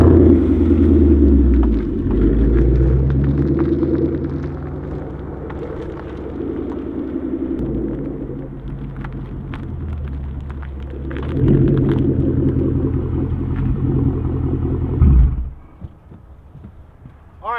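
A Ford Mustang GT V8 with a Borla S-Type exhaust rumbles loudly and revs in surges while warming up, rising and falling for a long stretch before cutting off abruptly near the end.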